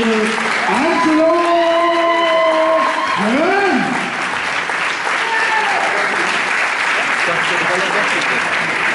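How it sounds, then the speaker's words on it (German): Sustained crowd applause at a boxing event after a fight result by technical knockout is announced, loud and continuous throughout, with an amplified announcer's voice speaking over the clapping. "Und viel Applaus auch für einen mehr als tapferen Jan Barlock"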